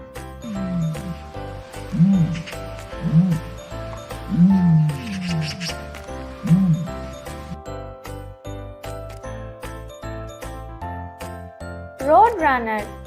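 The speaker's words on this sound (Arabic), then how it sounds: "ostrich," An ostrich gives a series of deep, low booming calls, about five in a row at uneven intervals, over light background music.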